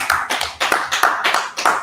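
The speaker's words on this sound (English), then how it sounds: "Clap it up one more time." Audience clapping in a room during a class on Christianity, a rhythmic group applause of quick sharp claps, close and loud, with no voices over it.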